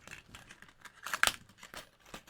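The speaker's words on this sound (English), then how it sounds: "I'm going to cut out an individual leaf" Scissors snip a single leaf shape out of card-making paper, giving a few close, crisp crinkling cuts with one louder rustle in the middle.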